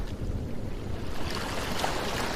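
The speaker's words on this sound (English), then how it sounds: "Waves lapped gently against the shore" Gentle ocean waves lapping against a shore, a steady soft wash of surf with breezy noise and no voices.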